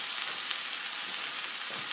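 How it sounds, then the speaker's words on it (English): Butter hits a hot pan of freshly strained pasta and sizzles with a steady, close, crackling hiss that holds evenly throughout, with no talking. "So I'm throwing in some butter."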